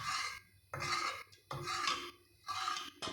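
Cooked dal (lentils) is mashed in a pot with firm, rhythmic strokes, four close scraping and squelching bursts separated by short pauses, with no voices.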